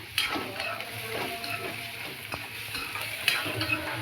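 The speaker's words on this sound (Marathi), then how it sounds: "कांदा आपला छान असा ह्याच्यामध्ये तेलामध्ये परतून घ्यायचा आहे आपल्याला" Onion sautéing in oil in a pan for Maharashtrian khara vangi, a steady close sizzle with occasional stirring scrapes and clicks, no voices.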